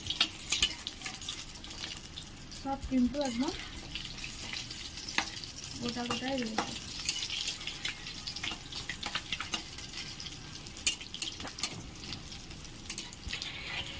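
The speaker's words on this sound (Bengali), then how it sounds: "খুব অল্প সময়ের মধ্যে এই কাটলেটগুলো ভাজা হয়ে যাবে" Egg cutlets fry in hot oil with a steady, close crackling sizzle that runs the whole time. Someone speaks briefly over it near the start.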